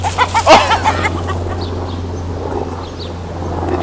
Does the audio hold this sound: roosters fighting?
yes